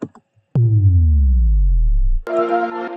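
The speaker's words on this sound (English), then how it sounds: "this sub drop kind of sound is super useful." An electronic dance music sub drop: a single deep boom that slides steadily downward in pitch for nearly two seconds, loud and alone, then cuts into a brief burst of bright synth chords.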